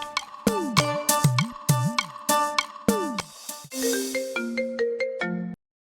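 A mobile phone ringtone plays an incoming-call melody: loud, bright electronic notes repeating in a bouncing pattern, then a faster run of rising tones before it cuts off abruptly.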